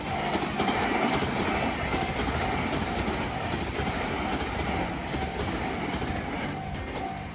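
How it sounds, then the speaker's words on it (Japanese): The Shinano limited express train rushes past a level crossing near Narai-juku, a loud, continuous, close rumble with rail clatter, and a faint crossing bell ringing beneath it throughout. "ちょうど踏切が鳴って特急信濃が通過していきました。"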